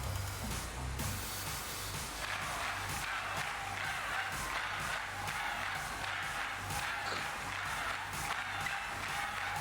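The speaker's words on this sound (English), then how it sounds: "Give him a round of applause, everyone!" A crowd applauds and cheers at a gym event in Pokemon Violet, with rapid clapping and massed cheering in steady bursts across several seconds, moderately loud and heard without talk over it.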